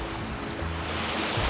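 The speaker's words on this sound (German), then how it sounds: "Also man hat hier direkt das Meer" Waves washing on the Danish coast, a continuous broad roar of surf that builds slightly, with no voices.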